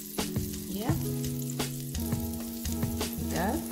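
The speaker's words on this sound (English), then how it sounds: "These pancakes have been frying for about 2 minutes" Plant-based oat and banana pancakes sizzle in a hot pan, a continuous close frying hiss broken by occasional scrapes and short squeaky tones.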